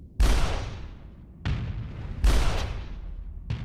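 Four heavy, booming shots from a rocket-propelled bolter-style weapon in Starsector, a space video game, spaced roughly a second apart, each with a sharp attack and a long fading tail, loud and close with no talk.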